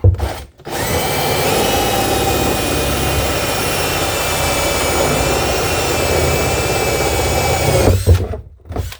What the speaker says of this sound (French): quand vous utilisez vraiment une scie cloche comme ça